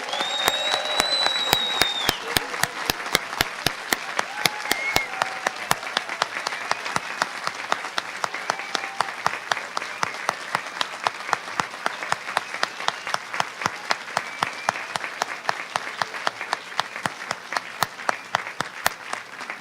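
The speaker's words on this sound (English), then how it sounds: "let's welcome our next group of middle schoolers. Let's give them a big round of applause" Sustained audience applause at a school fourth-grade moving-up ceremony, dense steady clapping from a large crowd filling the hall for about twenty seconds with no talking over it.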